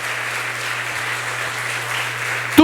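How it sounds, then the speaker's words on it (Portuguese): A church congregation applauding during a sermon, producing a continuous patter of clapping over a low steady hum, with a short sharp burst of a louder sound right at the end. "Aplauda ao Senhor, irmão."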